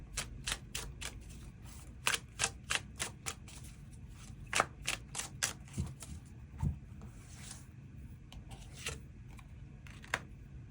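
Tarot cards are drawn and flicked from a deck in a quick series of crisp, close snaps and slides, irregularly spaced, with a quieter shuffling stretch toward the end and no talking.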